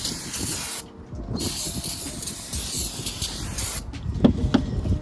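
Brake cleaner sprayed onto the rear rotor of a 2016-2022 Lexus RC200t outdoors in wind, a steady broadband hiss lasting most of the stretch with a brief pause, then ending in a few clicks and knocks.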